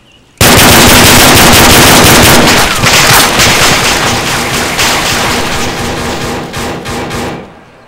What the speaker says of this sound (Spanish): Está disparando una .50